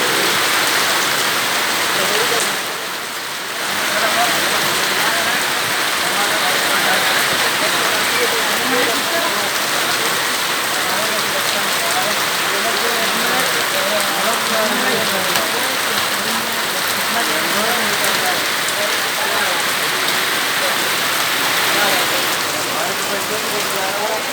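Heavy stormy rain pours down in Islamabad, a loud, continuous dense hiss of water striking surfaces that dips briefly near the start and then holds steady throughout.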